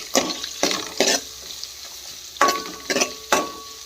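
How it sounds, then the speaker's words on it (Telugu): Ginger paste and turmeric are stirred into a pan for a small-fish curry, with a faint background sizzle broken by six or so short, close scraping stirs in uneven bursts. "పసుపు వేసుకొని అల్లము ఇదంతా మిక్స్ చేసుకుందామండి, కలుపుకుందాం."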